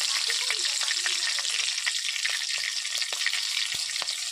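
Slit green chilies sizzling in hot oil with cardamom, cinnamon and cloves for a chicken dish, a steady close bright frying hiss with occasional stirring clicks throughout.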